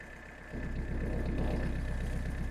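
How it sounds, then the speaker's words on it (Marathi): A tractor engine idles just after starting, a low, steady rhythmic chugging that grows slightly louder after a moment and runs on evenly up close. "हा ट्रॅक्टरचा आवाज सुरू झाला"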